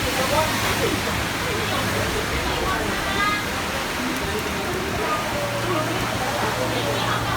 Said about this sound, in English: How is the water getting in there?